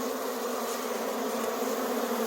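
Honeybees drone as a dense, continuous buzz at the hive, being moved for overwintering from a log hive into a square box. The swarm hums loud and close without a break, and no one speaks.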